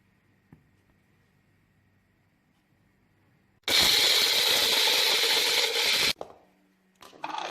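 Kabsa masala spices ground in an electric grinder: a loud, steady roaring whir runs for a couple of seconds before cutting off abruptly, followed by a short restart near the end.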